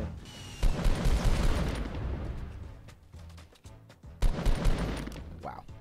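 Enemy gunfire in a battle royale game, a fairly quiet mix of crackling shots and booms in two clusters, blurred together with background game noise.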